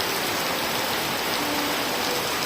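Heavy midday rain pours down steadily in a loud, unbroken hiss of drops striking surfaces all around, close and dense, with no voices.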